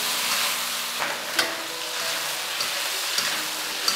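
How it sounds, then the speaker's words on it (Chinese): Chicken pieces stir-fried in a hot wok with chopped ginger and garlic, a loud steady sizzle with scraping spatula strokes, close and continuous with no talking. "先把这个姜蒜粒倒进去，一起给它炒一下，把香味给炒出来"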